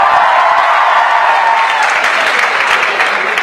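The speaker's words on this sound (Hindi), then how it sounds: "अगर आपको इनकी बात समझ आ गई है तो तालियां।" Steady audience applause fills a comedy parody show, dense and continuous, with a murmur of crowd voices beneath the clapping.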